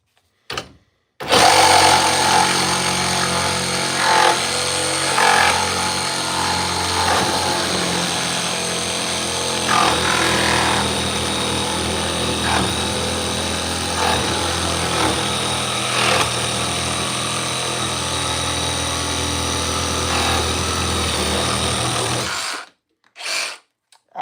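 A Ridgid power saw cutting, a loud continuous whining drone with a grinding edge that holds steady for over twenty seconds before stopping abruptly.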